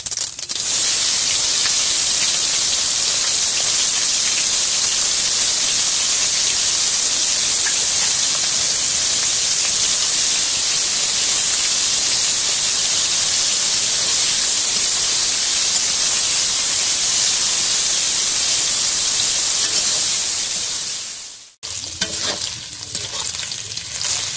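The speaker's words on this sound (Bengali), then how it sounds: "ফোড়নের জন্য দিচ্ছি গোটা জিরে, তেজপাতা, কুচনো পেঁয়াজ" Whole cumin, bay leaves and chopped onion fry in hot oil for a Bengali country chicken and potato curry, giving a loud, steady, dense sizzle with stirring throughout that cuts off abruptly near the end, followed by a brief quieter stretch.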